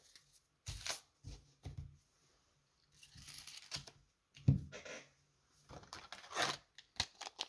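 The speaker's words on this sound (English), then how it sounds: "I'm gonna move this pile of cards." MetaZoo trading cards from a UFO booster box shuffled and slid as a pile, producing several short papery riffles and flicks separated by quiet pauses, close and soft.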